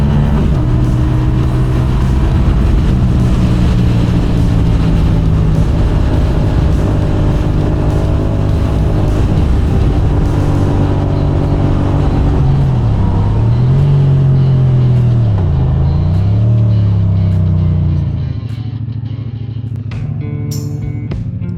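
A CFMoto CLC 450 bobber motorcycle accelerates: a loud, close engine rumble that rises through gears with pitch sweeps, then eases off and fades toward the end.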